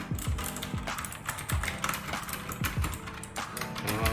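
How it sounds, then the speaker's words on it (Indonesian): Someone types on a mechanical computer keyboard, with quick irregular clacks of individual keys and a few heavier strokes, close and fairly quiet, with no voice. "untuk si keyboard ini buat sobat semuanya, pertama yang paling aku suka banget, yang kita suka banget lah ya, itu dari suara."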